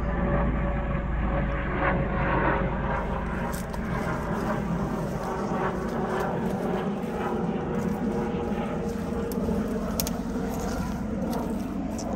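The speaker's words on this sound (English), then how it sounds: "Helicopter." A helicopter flies overhead an abandoned village in Durham, a steady, rumbling engine drone with a low throb continuing throughout, loud and constant.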